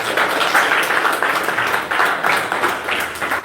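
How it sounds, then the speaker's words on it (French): A church congregation claps together, close and fairly loud, with uneven rhythmic swells of hand claps running throughout and no clear speech over it. "Applaudissez pour le frère ici. Applaudissez pour lui."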